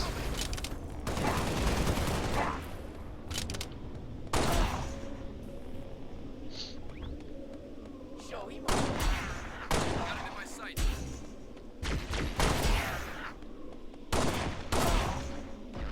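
Gunfire in the video game Halo: Spartan Assault comes as repeated loud volleys and rapid bursts at irregular intervals over sixteen seconds, with quieter gaps and someone occasionally talking between them.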